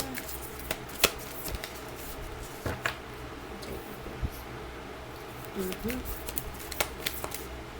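Tarot cards being shuffled and handled for a spiritual reading, giving soft papery riffles and scattered slaps of cards at close range, with faint talk and room noise underneath.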